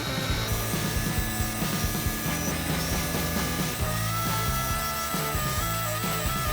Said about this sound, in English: Mark it out and back to the bandsaw.